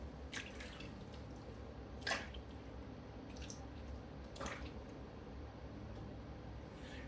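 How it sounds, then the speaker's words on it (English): Shaving product being rinsed from a face with water: faint, intermittent splashes and drips against a quiet background hiss. "And then when the 30 seconds is over, then we rinse it off."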